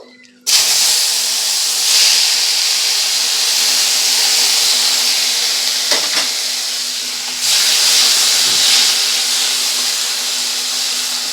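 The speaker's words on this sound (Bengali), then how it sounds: "এবার এই কড়াতে দিয়ে দেব চিংড়ি মাছ চিংড়ি মাছগুলোকে আমি ভেজে নেবো" Prawns dropped into hot oil in a kadai, a loud, constant close hiss of frying that holds steady for several seconds, with a brief clatter partway through and no talking.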